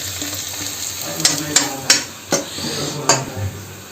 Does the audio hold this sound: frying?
yes